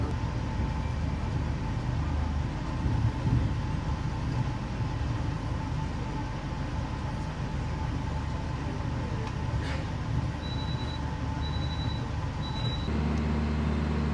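Logawa passenger train on the short run from Surabaya Gubeng to Wonokromo, heard from inside as a steady loud low rumble of wheels and motion, with a few faint high beeps near the end and no talking.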